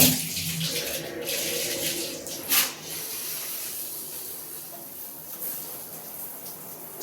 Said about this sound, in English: now I'm gonna take a shower